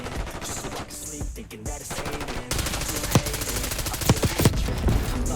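Automatic gunfire in Call of Duty Black Ops 6 with rapid bursts of shots and a few sharper, louder cracks later, over busy in-game noise and faint background voices.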